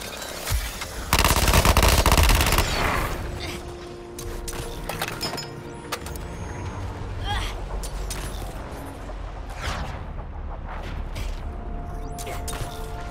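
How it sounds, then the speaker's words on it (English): Harley Quinn fires on enemies in the Suicide Squad: Kill the Justice League video game, with a loud burst of rapid automatic gunfire followed by scattered shots and impacts under game voices. "I'm just gonna keep shooting these bastards in the head"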